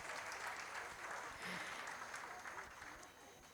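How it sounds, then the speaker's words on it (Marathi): Audience applause at a Ganeshotsav cultural program after a girls' folk performance, a dense sustained round of clapping from a crowd, fairly distant and fading slightly toward the end. "पण पुन्हा एकदा टाळ्या मुलींसाठी या सगळ्या."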